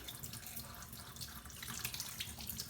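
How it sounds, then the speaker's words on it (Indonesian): A tap runs softly into a sink while hands are rinsed during handwashing, a faint, steady stream of water heard alone without voices. "Selanjutnya bilas sampai bersih. Lalu matikan keran."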